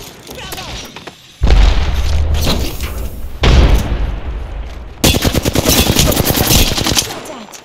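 Gunfire in Apex Legends on World's Edge: loud bursts of automatic fire in three separate volleys with booming impacts, the last a rapid sustained spray, with brief game voice lines in between.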